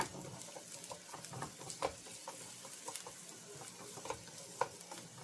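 Marinated meat with onions is stirred and fried in olive oil in a pan, a faint sizzle under soft, irregular scraping and clicking stir sounds, with no talking.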